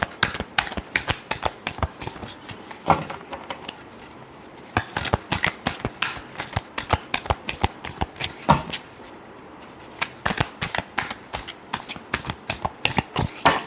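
A deck of tarot cards is shuffled by hand in a quick, crisp riffle of card flutters, repeated in bursts with short pauses between them, close and clear with no talking.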